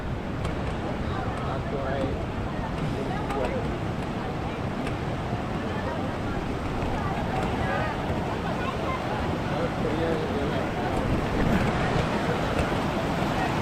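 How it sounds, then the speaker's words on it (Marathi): The Barvi River rushes and gurgles in a steady, broadband wash of flowing water, with wind buffeting the microphone and faint voices underneath. "खळाळाचं पाणी"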